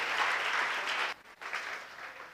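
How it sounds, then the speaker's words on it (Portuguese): A church congregation applauds during a Portuguese-language sermon. The clapping is a short, dense burst that briefly drops off midway and then picks up again, with no voices over it. "Você pode aplaudir o Senhor?"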